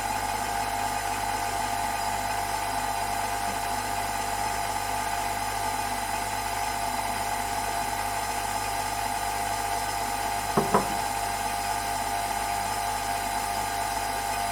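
A stand mixer kneads brioche dough at slow speed with a continuous close motor whine and hum. It runs steadily throughout, with one brief knock near the end.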